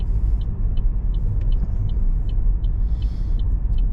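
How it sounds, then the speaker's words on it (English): A 2023 Chevrolet Trailblazer LT with a 3-cylinder engine and CVT transmission driving, heard from inside as a steady loud low road and engine rumble with faint periodic ticking, no talk. "So here we go on our little drive in the Trailblazer,"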